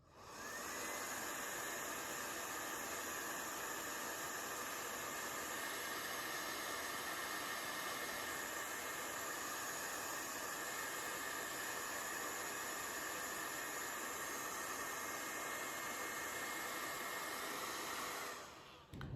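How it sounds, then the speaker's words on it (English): Steady, even rush of a blow dryer running on its cool setting over a glueless curly lace front wig, close and constant throughout with no voices. "I'm gonna just take my blow dryer just to seal them in place"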